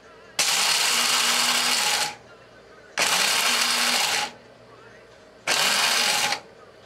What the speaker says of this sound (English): here is my El Cheapo coffee grinder with the coffee I just put in it. And we're going to grind this to a coarse grind.